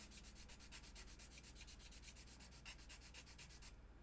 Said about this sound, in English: we're going to grab our 400 sanding block here, and we're just going to kind of feather that together